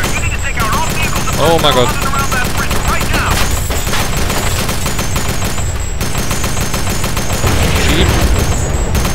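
Machine gun fire in Delta Force: Xtreme 2 pounds in dense, rapid, loud continuous bursts with brief gaps, mixed with other battle sounds, while someone talks over it.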